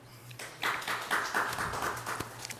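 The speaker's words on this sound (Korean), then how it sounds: "청년 MC 여러분 큰 박수로 맞아주시기 바랍니다" An audience at a televised presidential candidate debate event gives a round of applause to welcome a youth MC, with scattered claps building into a brief, moderately faint burst heard from within the hall.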